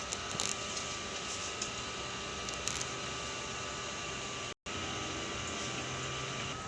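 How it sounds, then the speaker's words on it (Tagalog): A sublimation printer's print head runs with a steady mechanical whir and hiss, continuous and fairly loud, with a brief dropout partway through and faint clicks near the start. "Nandito naman po ang aming printer head."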